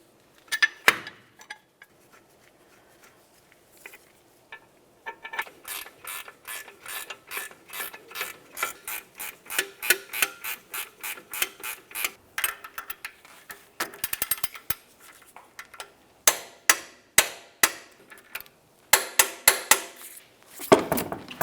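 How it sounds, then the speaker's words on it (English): Brake caliper bracket bolts on a Chevrolet Tahoe are tightened with a ratchet, giving long runs of rapid close clicking in bursts with short pauses between, plus a few isolated clanks of tools. "Start in both of your caliper bracket bolts, snug them up, and then torque them to 148 foot-pounds."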